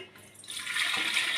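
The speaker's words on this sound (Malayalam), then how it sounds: "ബാക്കിയുള്ള പാല് മിക്സിയുടെ ജാറിൽ നിന്ന് നമുക്ക് ഒരു കലത്തിലേക്ക് ഒഴിച്ച് വെക്കാം" Thin leftover milk, diluted with water, pours from a mixer-grinder jar into a pot while making ghee at home; a close, steady liquid splash builds over about a second with no talk.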